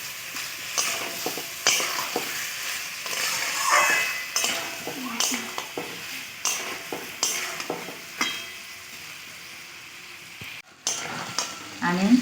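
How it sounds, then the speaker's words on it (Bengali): Mutton sautéing in a pan for a red curry, with steady sizzling and frying crackle broken by repeated stirring scrapes and clinks, fairly close. "2 মিনিট আমি ভালো করে কষিয়ে নিই।"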